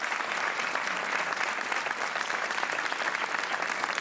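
Steady, dense studio audience applause on a Portuguese TV quiz show as a contestant is welcomed, a full wall of clapping holding at even loudness throughout.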